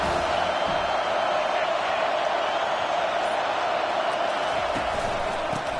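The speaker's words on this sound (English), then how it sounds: "Decibels rising as the crowd gets behind this defense on 3rd down." A football stadium crowd roars in a steady, loud, continuous wash of noise as fans rally behind the defense on third down in a Wisconsin at USC game.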